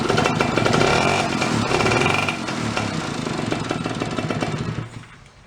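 A steampunk moped's small engine rope-started and running on its first start, a loud, rough, buzzing chatter close by that eases slightly toward the end with no talk.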